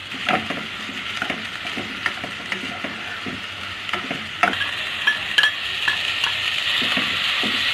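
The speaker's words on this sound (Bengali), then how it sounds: "ভালো করে মাংস আর আলু ভালো করে তেলের মধ্যে ভেজে নিলাম একটু" Chicken pieces and potatoes fry in hot oil with a steady, close sizzle, while a utensil scrapes and stirs through the pan in repeated clinks and knocks.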